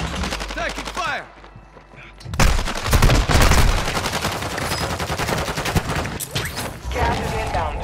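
Rapid bursts of automatic gunfire in a Call of Duty match, loud and sustained after a quieter opening, with shots crackling over battle noise and a voice speaking briefly near the start.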